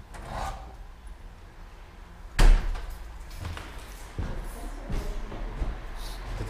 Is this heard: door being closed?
yes